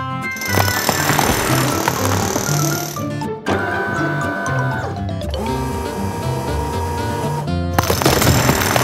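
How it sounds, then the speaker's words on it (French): Loud, rapid mechanical hammering from an excavator's hydraulic breaker pounding hardened concrete, with short pauses and metallic clatter between bursts. "Le marteau-piqueur de la pelleteuse devrait y arriver."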